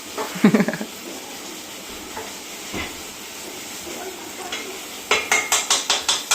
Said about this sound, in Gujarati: આને મિક્સ કરતા જશું